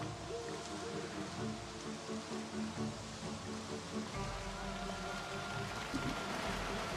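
Rain falling in the zombie survival video game Project Zomboid: a steady, even hiss of rainfall lasting throughout, fairly close and constant, with no talking.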